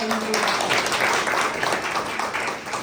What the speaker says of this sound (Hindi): मैं पूरे संगठन की ओर से एक बार फिर जोरदार तालियों से इनका स्वागत एवं